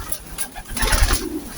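Pigeon hens cooing in a loft at feeding time, soft layered coos and rustling close by, with no voices.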